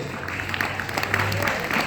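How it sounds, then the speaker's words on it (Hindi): Audience applause at an Arya Samaj Vedic bhajan gathering in Hisar, Haryana: a short, steady wash of clapping from the crowd, with voices mixed in underneath. "ये जो हैं इनके लिए जोरदार ताली बजाओ, और जो नहीं छू करके आते इनके लिए ज्यादा बजाओ।"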